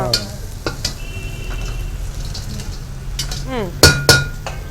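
Prawns frying with garlic in a pan, a steady sizzle with stirring, a few scrapes and two sharp metallic clinks near the end, heard close.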